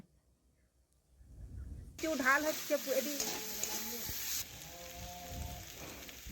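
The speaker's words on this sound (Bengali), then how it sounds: "লাল লঙ্কার গুঁড়ো এটাও ভালোভাবে মিশিয়ে নেব" Cauliflower stalk curry being stirred in a pan after red chilli powder is added, a steady scraping stir with a soft sizzle that starts abruptly and runs loud under a woman's speech.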